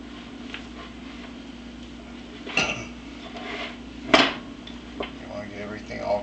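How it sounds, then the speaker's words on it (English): Chili batter being whisked by hand with a regular hand whisk in a bowl, with scattered clinks and sharp taps of metal against the bowl over a low steady background, and a voice speaking faintly at times. "for today's exercise I'm going to just do this in the regular hand whisk"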